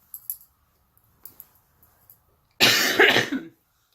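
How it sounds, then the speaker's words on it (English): A few soft clicks and small throat noises, then one loud, harsh coughing fit close by, lasting about a second before fading out. "this cough is really, really annoying me."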